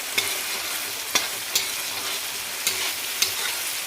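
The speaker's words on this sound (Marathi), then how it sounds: "हा मसाला आपल्याला छान एकदम तेल एकदम सेपरेट होईपर्यंत परतून घ्यायचं." Spiced masala for a mutton curry sautéing in oil until the oil separates, a continuous sizzle punctuated by about five sharp scrapes of a spatula against the pan, close up and without talk.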